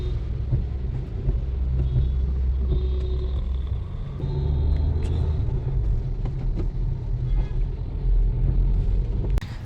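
A bus rumbles along a highway near Mangaon in a continuous, heavy low drone, heard from close by, with a few light clicks and rattles scattered over it.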